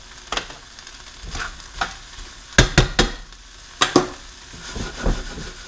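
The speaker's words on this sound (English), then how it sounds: "we're going to cook these vegetables until they become a little softer" Vegetables being cooked in a pan for lasagna and pizza prep, with a steady soft sizzle and several sharp clacks of stirring against the pan, a few spaced near taps standing out clearly.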